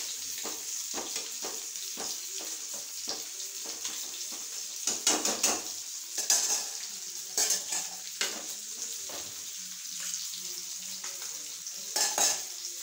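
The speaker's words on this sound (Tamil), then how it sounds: "ஊற்றிட்டு இது நல்லா கிளறிடணும்." Vegetable kaliya being stirred in a pot after thick coconut milk has gone in. A spoon scrapes and clinks against the metal in repeated close strokes over a steady sizzle, and nobody speaks.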